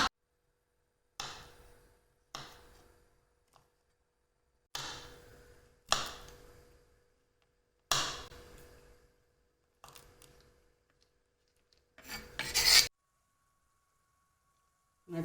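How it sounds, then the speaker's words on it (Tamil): A knife chops nuts on a board for Arcot makkan peda, about eight sharp, separate cuts spaced a second or two apart, close and clear in a quiet kitchen. "இப்போ நம்ம எடுத்து வச்சுருக்க நட்ஸ் எல்லாம் இந்த மாதிரி கட் பண்ணி எடுத்துக்கலாம்."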